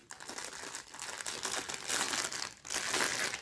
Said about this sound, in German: Entschuldigt die Raschlerei, das ist wirklich heftig mit dieser Folie.